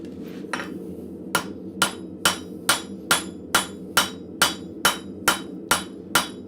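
Hot steel is hammered on an anvil while forging a cross peen hammer in a blacksmith shop: a dozen sharp, ringing metallic blows fall in a steady, even rhythm, loud and close, over a low forge hum.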